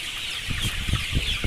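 Chickens on a commercial poultry farm cluck in short, repeated bursts close by, several soft calls over a steady background hiss with no talking.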